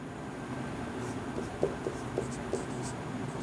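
Chalk or marker writing an example sentence on a classroom board during an English grammar lesson, a few faint taps and short strokes, quiet and close, with no speech over them.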